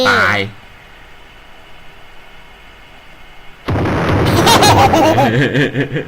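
A voice speaks briefly, then after a quiet stretch a sudden loud bomb blast from Roblox Brookhaven erupts, with excited talking over the noise.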